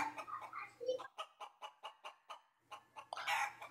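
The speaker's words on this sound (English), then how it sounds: "Hey chickens, here's your Swiss chard." Several chickens cluck in quick, rhythmic bursts while being fed Swiss chard, close to the microphone, with a sharper squawk near the end.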